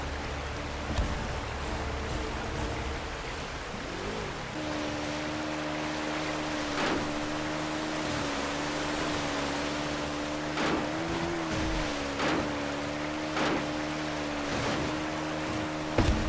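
A boat motors across water in the game Uncharted: Drake's Fortune, a steady engine drone over continuous wave and spray noise, with occasional louder thumps and splashes and a brief pitch swell midway.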